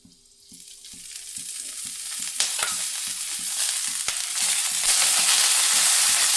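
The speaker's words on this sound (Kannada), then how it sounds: "ನಾನು ಫಸ್ಟು ಹಸಿ ಮೆಣಸಿನ್ಕಾಯಿನ ಫ್ರೈ ಮಾಡ್ಕೊತೀನಿ" Green chillies fry in hot oil, the sizzle swelling from quiet to a loud, steady hiss with a regular ticking of stirring or spattering running underneath throughout.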